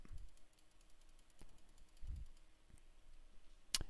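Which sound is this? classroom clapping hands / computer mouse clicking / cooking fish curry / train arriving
computer mouse clicking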